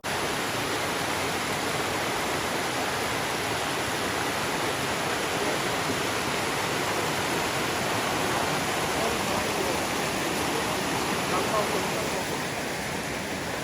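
A mountain stream flows steadily outdoors, a constant broadband rush of water close by that stays even throughout with no breaks.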